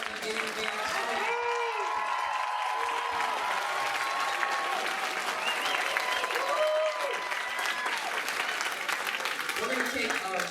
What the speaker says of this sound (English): Give a big round of applause to all of our beginning band students.